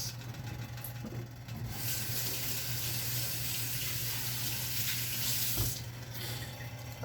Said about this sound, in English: Okay, wash my hands.